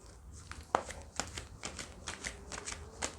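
Tarot cards being shuffled by hand, a run of soft papery riffles and slaps in an irregular rhythm, close but fairly quiet, with no voices.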